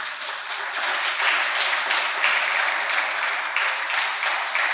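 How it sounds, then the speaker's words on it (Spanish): A church congregation breaks into sustained applause, a broad wash of many hands clapping fairly close and loud, swelling slightly and holding steady for several seconds. "Dale un aplauso al Señor por eso."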